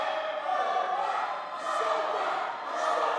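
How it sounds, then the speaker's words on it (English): Wrestling crowd at an Elmwood Park show cheering, a broad sustained roar that swells and dips in waves, dense and steady with no clear voices standing out. "Listen to the crowd"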